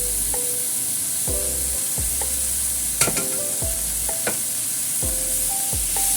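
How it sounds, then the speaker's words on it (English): Chicken and mushrooms stir-fry in a hot pan, a steady close sizzle broken by repeated scraping strokes of the spatula and a few sharp clinks against the metal. "Now we stir fry everything in the pan"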